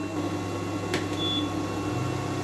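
Air assist on a laser engraver runs as a steady, even mechanical hum with a faint higher whine, broken only by one brief click partway through.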